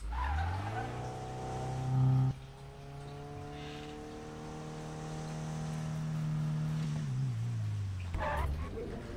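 A car in the Need for Speed video game revs steadily and sweeps into a long, drawn-out skid with a wavering engine tone, ending in a brief squeal, all heard alone without talk.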